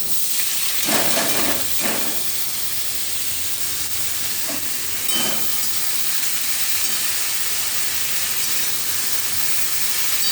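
Thinly sliced potatoes and onions, salted and seasoned with turmeric, fry in hot oil with a steady, loud sizzle and hiss throughout, broken by a few stirring scrapes near the start and middle; no one talks.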